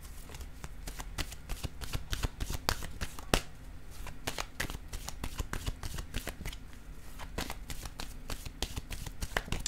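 Tarot cards are shuffled close by in a quick, quiet series of crisp riffling snaps and flutters that repeat irregularly throughout, with no voices.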